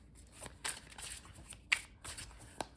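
Tarot cards are shuffled by hand in a quiet room, a soft series of riffling bursts and papery flicks at an uneven rhythm, close and gentle, with no talking.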